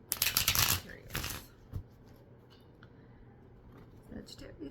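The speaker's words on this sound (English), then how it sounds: "All right, let's shuffle." A brief riffling burst of cards being shuffled up close, followed by a couple of soft taps, then quiet room tone.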